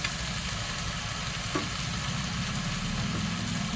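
Spices (turmeric, red chilli powder, coriander powder) frying in a pan for dry prawn and brinjal pulao, a steady close sizzle with a low rumbling hiss and a couple of faint clicks, no talking.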